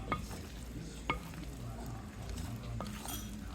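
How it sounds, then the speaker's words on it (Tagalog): Cooked pasta stirred in a pot for a chicken bacon ranch dish, with a soft steady mixing rustle broken by a few sharp clinks of the utensil against the pot. "Mix lang natin sila lahat."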